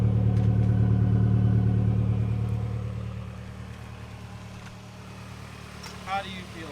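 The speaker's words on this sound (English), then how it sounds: "Car's running, fan's running, it's on." A Nissan 240SX sits idling close by with a cooling fan running, giving a steady low engine hum that eases slightly after a few seconds.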